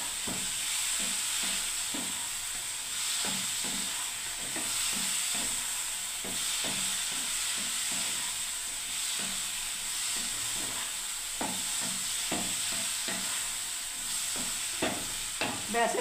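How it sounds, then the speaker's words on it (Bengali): Bottle gourd knots sizzle and fry in a pan while being stirred, with steady hiss and repeated scraping strokes close up throughout, no talking. "এবার আমি আরেকটু নাড়তে থাকবো বন্ধুরা"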